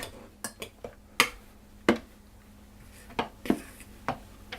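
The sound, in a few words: stirring cracker dough with a fork in a bowl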